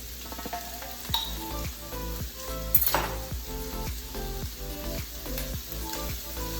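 Peppers, red onion and chopped garlic sizzle steadily in a pan, a continuous close frying hiss broken by regular utensil scrapes and stirring knocks, with no voices.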